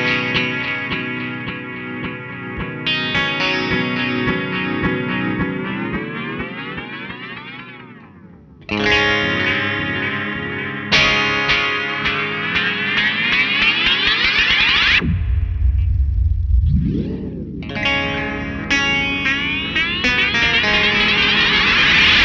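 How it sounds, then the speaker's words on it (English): SolidGoldFX Electroman EM-III multi-head octave echo pedal in glitch mode ramping up, a loud effected guitar smeared into repeating echoes with pitch sweeps and a deep dip near the end, playing continuously without talk. "As you can hear, the glitch does a lot."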